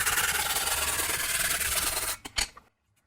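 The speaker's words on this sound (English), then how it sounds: "Just before welding, I'll clean this joint with a wire brush." A wire brush scrubs a metal seat joint before welding, giving a continuous harsh rasping for about two seconds, then a few short strokes before it stops.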